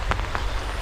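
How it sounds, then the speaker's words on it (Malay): Heavy rain pours down steadily beside a freshly dug ditch, a dense continuous hiss of drops with a couple of slightly louder patters. "Oh, lebat ni hujan."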